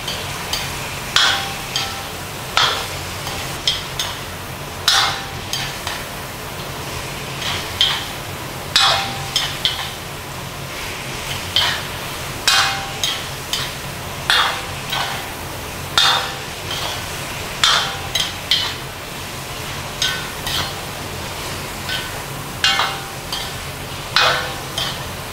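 Chicken and mushrooms stir-fried in a wok, with steady sizzling broken by regular sharp metallic clinks and scrapes of the spatula against the pan, repeating every second or two with no talk.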